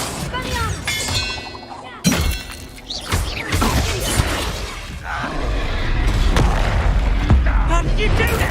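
A Confringo spell blasting in Hogwarts Legacy combat, booming explosive hits and shattering crashes amid battle noise, with a voice speaking over parts of it.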